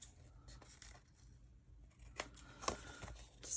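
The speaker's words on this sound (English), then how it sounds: "I'll get my scissors out because I want to snip the corners on this one." Scissors snip the corners of paper for a craft page: a few quiet, close cuts and rustles spaced a second or so apart, growing slightly louder toward the end.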